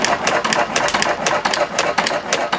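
A propane-fuelled hit-and-miss engine running steadily, its repeated sharp mechanical clacks and firing beats ticking along in an uneven rhythm, close and fairly loud, with no talk over it.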